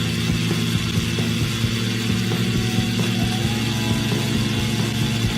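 A small aircraft's piston engine drones loud and steady just after lifting off from a runway in Austria with gear and flaps coming up, a constant close, even roar with no pauses.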